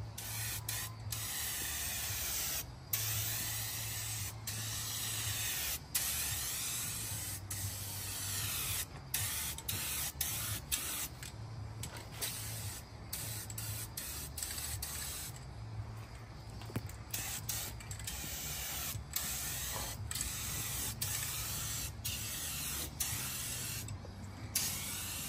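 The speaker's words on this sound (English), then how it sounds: "Professional rattle canner. Yeah, with no experience in turbo cans." Turbo rattle-can spray paint hissing steadily onto a Ford Bronco panel during preparation, with long continuous bursts broken by brief pauses and a low background hum throughout.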